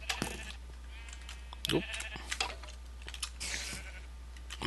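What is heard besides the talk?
sheep bleating while set on fire in a video game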